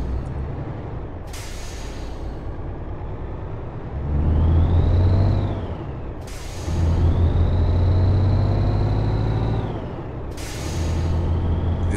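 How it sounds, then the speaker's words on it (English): A Volvo VNL 780 truck with a 750-horsepower engine in Euro Truck Simulator 2 revs up and down in repeated surges, with three sharp air-brake hisses between them, close and loud. "very powerful sound. It gives you a feeling that you are really driving a truck with 750 horsepower."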